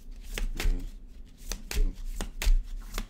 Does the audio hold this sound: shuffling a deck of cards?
yes